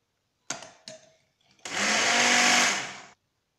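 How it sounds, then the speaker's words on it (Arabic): After two short pulses, an electric mixer whirs loudly for about a second and a half, blending lemon, milk and sugar for a homemade lemon sherbet drink, then cuts off abruptly. "نخلطوهم بالميكسر"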